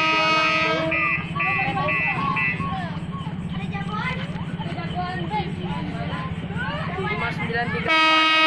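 A KRL Commuter Line train bound for Nambo rumbles steadily through Pondok Rajeg station on track 1, bracketed by a loud multi-tone horn blast at the start and end, with a station announcement and chatter in the background.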